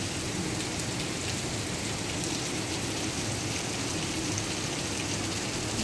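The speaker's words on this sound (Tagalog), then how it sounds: "Maulan, raining today." Steady rain falls outside near a hotel lobby, a dense, even hiss of drops that continues without a break from start to finish, with no talking.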